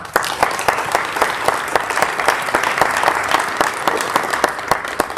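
Steady applause from a seated audience at a freshman academic ceremony honoring a group of students, dense clapping sustained throughout with sharp individual claps standing out, fairly close and alone without talk.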